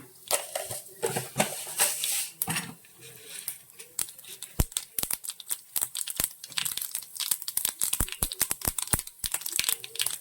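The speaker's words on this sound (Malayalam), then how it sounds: "എണ്ണ ചൂടായിട്ടുണ്ട്. നമുക്ക് കടുക് ഇട്ട് കൊടുക്കാം." Mustard seeds spluttering in hot oil for a ginger curry tempering, a dense run of sharp irregular pops and crackles, close and fairly loud, thickening toward the end.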